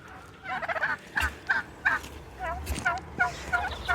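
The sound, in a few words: turkeys gobbling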